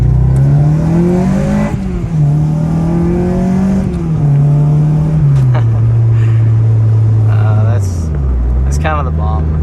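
Car engine pulling hard in first gear, a rising and falling rev note that climbs through several shifts in pitch, loud and close from inside the car, with brief voices near the end.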